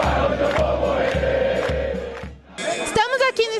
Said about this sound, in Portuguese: A torcida está muito animada